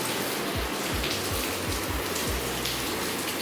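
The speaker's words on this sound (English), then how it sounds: "And just like that, rain poured." Rain pours down steadily outdoors on a hot day, a dense continuous hiss with soft thuds from drops, heard alone without talk.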